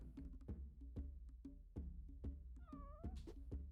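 A cat meows in the Spelunky video game, a single rising-and-falling meow from the game audio over a steady rhythm of regular thumping beats and background game sounds.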